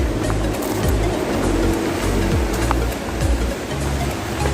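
Water rushes steadily in a river near a waterfall, a dense continuous roar heard close and loud with no talking.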